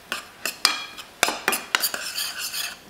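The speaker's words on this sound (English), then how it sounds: "Give it a stir." A utensil stirs butter chicken in a pot, with a series of sharp scraping and clinking strokes against the metal in an irregular rhythm, close and clear with no speech.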